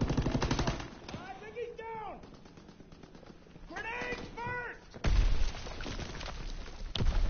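Rapid bursts of gunfire from a Call of Duty WWII match crackle loudly at the start and again near the end, with a voice talking over quieter stretches in between.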